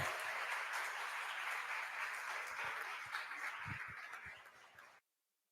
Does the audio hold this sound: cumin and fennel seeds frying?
no